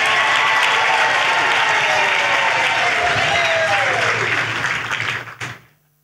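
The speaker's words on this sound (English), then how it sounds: "Clap for Jesus." A church congregation claps loudly and continuously for Jesus at a healing service, a full, dense roar of hands with voices underneath, sustained for about five seconds before cutting off abruptly to near silence.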